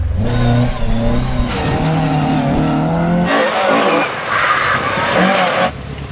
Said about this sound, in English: seeing these free-revving, tail-happy, oversteering monsters being used in the manner for which they are designed is always a treat